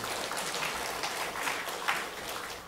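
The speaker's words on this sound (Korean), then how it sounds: "하나님께 영광의 박수 올려드리겠습니다" A church congregation at a Korean Sunday service applauds to give glory to God, a steady, even wash of many hands clapping together at moderate distance, with no voices over it.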